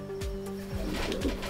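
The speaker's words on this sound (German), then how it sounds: "Und wie viele Tauben hast du insgesamt auf dem Schlag hier?" Racing pigeons in a loft give deep, rolling coos, several overlapping calls repeating in a steady rhythm close by, with light rustling and chirps behind them and no talking.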